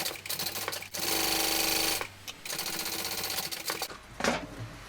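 A sewing machine runs in steady bursts, stitching quilt pieces together right sides facing along the seam allowance, with brief pauses between runs and a short final spurt, close and alone.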